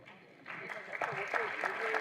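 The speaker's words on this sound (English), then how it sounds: "A big round of applause for the anchors." A burst of clapping rises after a brief quiet start and continues steadily, with a voice carrying over the applause.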